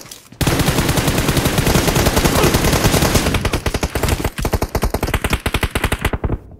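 Rapid machine gun bursts in a squad-based shooter video game, loud and continuous for most of the span, then breaking into distinct quick repeated shots toward the end.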